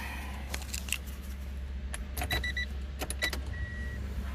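An old high-mileage car with a stiff clutch sits with a faint steady electric hum running low and continuous, overlaid by scattered clicks, clunks and rattles from handling inside the vehicle.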